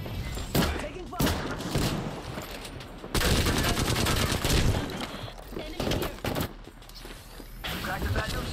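Video game gunfire in a combat match: dense, continuous bursts of rapid automatic fire with thuds and impacts, loud and close, occasionally mixed with game voices.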